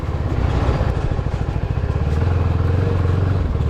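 Motorcycles ride close ahead with a steady, loud engine drone and some rattling. The engine note rises slightly toward the end, and no talk is heard over it.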